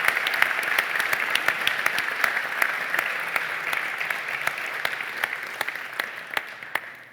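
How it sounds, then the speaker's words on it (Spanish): An audience at an agricultural forum in Salamanca applauds the speakers, with steady clapping that holds for several seconds and slowly tapers toward the end. "Pues creo que merecen un aplauso por la claridad de sus exposiciones."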